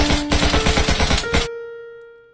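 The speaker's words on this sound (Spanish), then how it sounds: "Voy a hacer otro disparo preventivo, amigos." A rapid burst of video game gunfire, loud and close, rattles for about a second and a half, then a ringing tone fades out.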